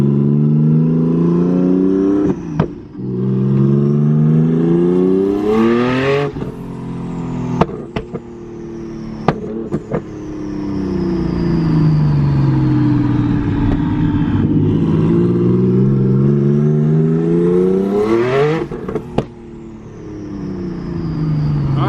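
A 13B rotary engine idling and revving repeatedly, rising and falling in pitch with a buzzy, raspy tone, loud and close, with a few sharp pops between revs.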